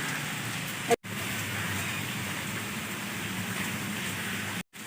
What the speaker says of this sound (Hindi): बरसात भी तो एकदम से इतनी तेज हो रही थी